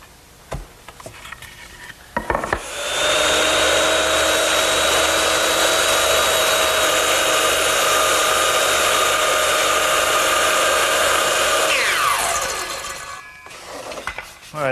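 A circular saw making a cross cut in wood for a Shaker step stool spins up and then holds a steady, loud high whine for about nine seconds before winding down, with no talking.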